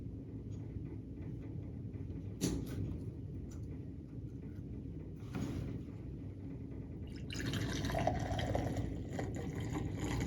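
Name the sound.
rubbing alcohol being poured into a container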